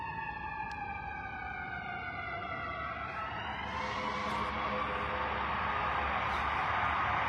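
A fire truck siren wails steadily, its pitch sliding down as it passes close by over constant city traffic rumble in St. Louis.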